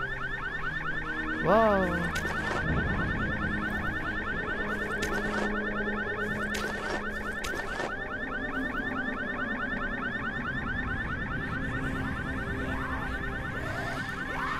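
Car alarm wailing in the Dying Light game, a steady repeating electronic pulse running loudly through the whole stretch, with a brief exclamation from a player near the start and other game sounds layered over it.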